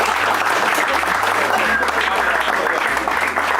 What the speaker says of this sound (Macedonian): Аплауз македонци!